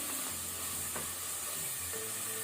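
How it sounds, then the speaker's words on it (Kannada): Frozen green peas fry on a medium flame in a pan for peas pulav, a quiet, even hiss with a faint clink near the middle and no voices. "ಫ್ರೋಸನ್ ಪೀಸ್ 1 ಮಿನಿಟ್ ಫ್ರೈ ಆಗಿದೆ"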